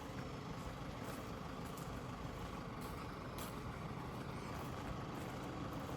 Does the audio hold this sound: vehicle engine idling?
yes